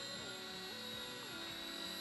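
Small battery-powered Jet Ranger model helicopter flying nearby, its rotor and motor giving a steady high whine that rises and falls slightly in pitch, heard alone without talk.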